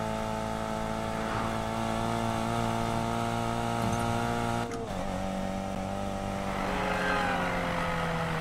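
Race car engines in the game Need for Speed: Payback hum and rev in a sustained, loud tone, with a brief dip and a gear change midway, with no talk over them.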